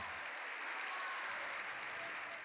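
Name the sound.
record ovation after a historic speech in Congress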